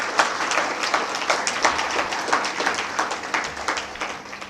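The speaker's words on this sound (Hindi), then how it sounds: "तालियां बजाएंगे कबीर जी के लिए।" An audience claps for Kabir, a steady burst of many hands applauding together at close range with a regular pulsing rhythm and no other sound.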